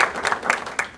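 Scattered audience clapping at a state treasurer's Medicare Advantage announcement, a brief burst of separate claps close by.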